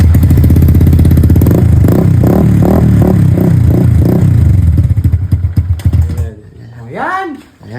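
A voice imitates a motorcycle engine starting and running, a loud pulsing putter that chugs steadily for several seconds, then breaks off into brief vocal sounds.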